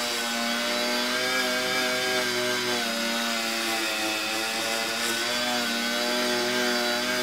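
A small mini polishing disc on a power tool polishes the tight corners of a vehicle, giving a steady, loud, continuous high-pitched motor whine with strong harmonic tones that holds unbroken throughout.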